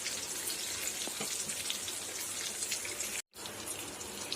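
Seer fish (vanjaram) fillets coated in masala fry in a pan, giving a steady, dense crackling sizzle that holds constant apart from one very brief dropout.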